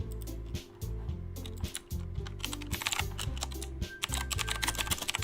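Computer keyboard clicking steadily through a run of typing during a DDLC Plus gameplay session, close and fairly loud over a constant background of music-like tones, with no one talking.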